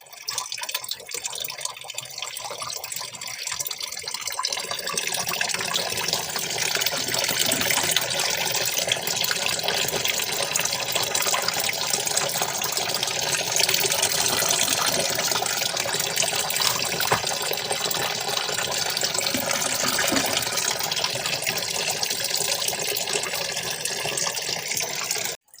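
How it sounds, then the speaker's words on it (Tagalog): After a few quiet seconds, water pours steadily through a filter into a backyard catfish tank, a continuous rushing gush that lasts to the end. "Dagdagan natin ng water ulit."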